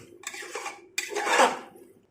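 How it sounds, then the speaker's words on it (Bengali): Green peas are tossed into a pan with potato pieces for a yogurt chicken pulao, two short bursts of scraping and clattering from a utensil against the pan, close and clear, with no voices. "এবং সেই গ্রিন মটরগুলো এর সাথে দিয়ে নেব এবং ভালো করে মিশিয়ে নেব।"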